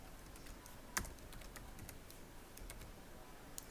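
Quiet typing on a computer keyboard, a run of light rapid clicks with one sharper keystroke early and a few louder taps near the end, close and alone.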